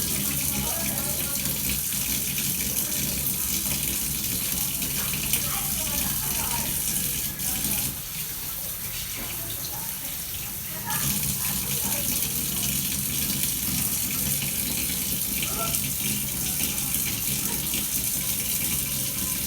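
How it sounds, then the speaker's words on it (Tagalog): Tap water runs steadily into a sink during hand washing, a close continuous splashing gush with a brief shift in flow midway. "Next is perform hand washing and wear gloves if necessary."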